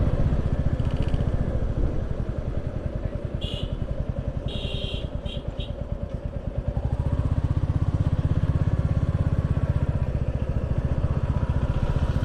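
A motorcycle rides steadily along a road near Baidyapur, its engine droning continuously and loudly up close with wind rush, a few brief high tones mid-ride, and no talk.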